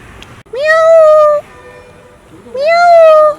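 A cat meows twice, loud and close, each call a drawn-out rising then falling wail separated by a short pause.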